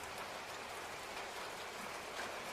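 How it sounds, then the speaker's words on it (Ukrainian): Cartoon rain begins to fall as a steady, even hiss of drops pattering on a surface, soft and continuous with no voices over it. "От уже й дощ починається."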